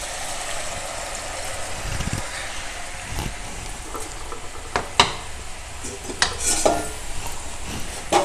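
Butter murukku dough squeezed into hot oil sizzles and crackles steadily over a broad hiss, with a few louder pops and spatters breaking through near the end; no talking.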